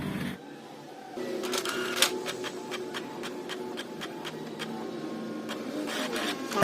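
Canon MG2570 inkjet printer feeding paper and running smoothly after repair, with a steady mechanical hum under rapid regular clicking and ticking from the feed mechanism, close by.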